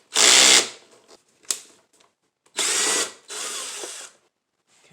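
A power tool (a drill or impact driver) whines in several short bursts as it backs a bolt out of a Husqvarna HU675AWD self-propelled mower deck, loud and close, with a sharp click and brief pauses between runs.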